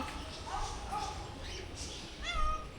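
A cat meows a few times, short rising calls over a steady noisy background, fairly faint.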